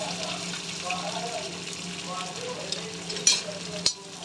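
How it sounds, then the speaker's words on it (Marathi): Tomatoes sautéing in a pan for egg tawa masala, a steady close sizzle with soft stirring scrapes and a couple of sharper clinks near the end. "मऊसूद होईपर्यंत त्याला परतून घेणार आहे मी."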